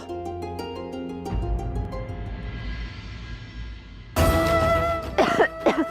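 A woman gives a light, short cough in a mythological TV drama, following a fading musical tone and a quiet pause.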